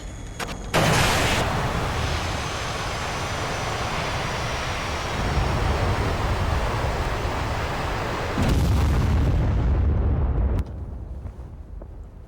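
A MiG-21 is shot down in the DCS flight simulator, a loud roaring blast with rumbling debris that fills the scene for several seconds, swells again near the end, then cuts off abruptly.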